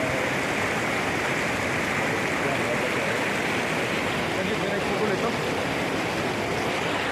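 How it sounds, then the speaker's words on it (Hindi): A waterfall near Sela Lake in Tawang, Arunachal Pradesh, high in the mountains in rain, gives a steady, close, broadband rush of falling water with no pauses. "और इधर तो देखिए झरना,"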